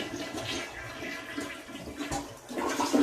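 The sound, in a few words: toilet flushing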